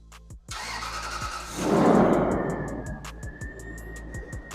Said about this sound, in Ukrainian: натискаємо автозапуск, чекаємо, і автомобіль запускається.